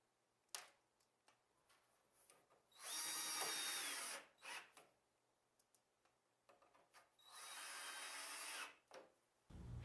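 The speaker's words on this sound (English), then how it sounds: "Screw the rear brackets to the back of the cabinet in the correct location." A power drill drives screws through rear brackets into the back of a cabinet while installing Blum Tandem drawer slides, two sustained whirring bursts of a few seconds each with small clicks and handling knocks between them.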